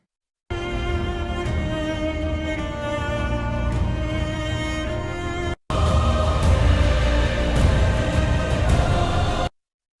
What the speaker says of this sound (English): it has kind of that big choir epic feeling over it